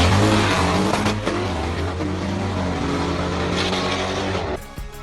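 A Dodge Demon V8 revs hard and loud, a dense, sustained engine roar with strong low harmonics that holds for several seconds before cutting off abruptly near the end.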